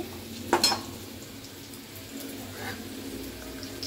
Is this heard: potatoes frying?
yes